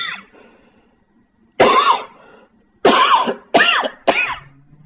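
A lecturer coughs repeatedly up close: a quiet rasp at the start, then four loud, hoarse bursts at uneven intervals, the last two coming in quick succession, with near silence between them.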